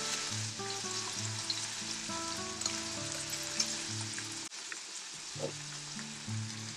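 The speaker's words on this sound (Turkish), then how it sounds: "Devam kavuruyorum." Eggplant filling sautéing in a pan with pepper paste and garlic, a steady close sizzle with stirring scrapes and a faint musical tone running underneath, no voices.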